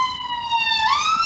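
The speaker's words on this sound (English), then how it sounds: "the sound of the local city ambulance streaming past" A city ambulance siren wails loudly in a steady tone that bends downward as it streams past, with no voices.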